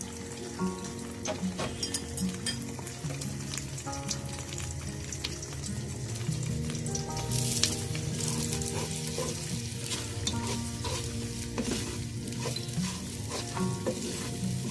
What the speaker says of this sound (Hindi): ऑयल गर्म हो गया, अंडे फ्राई करने लगी मैं।